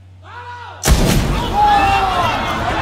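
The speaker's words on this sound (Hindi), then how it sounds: "ओए एक्चुअल गोली चलेगी" Gunfire and loud impacts erupt suddenly from the Jawan hospital fight scene after a short sung or tonal lead-in, followed by a dense rumbling crash of film action noise and crowd-like sound, loud and close.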